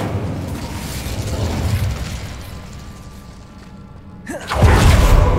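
An Incendio fire spell in the game Hogwarts Legacy goes off, with a rising whoosh that breaks into a loud, roaring fiery blast near the end after a rumbling build-up.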